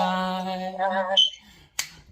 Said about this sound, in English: you have to have that finger snap so you can remember